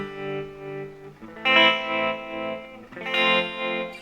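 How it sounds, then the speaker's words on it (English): Tremolo effect on a Peavey Delta Blues 1x15 tube guitar amp, with sustained guitar chords pulsing in volume, two louder strums ringing out with reverb. "It's also got a tremolo effect."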